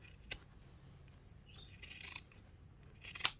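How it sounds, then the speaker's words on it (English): Pinking shears snip across fabric in a quiet setting, giving a few faint, crisp cutting crunches spaced over a few seconds, with the last one the sharpest. "we're just going to grab our pinking shears, And we're just going to go across and take a little bit of that bulk out"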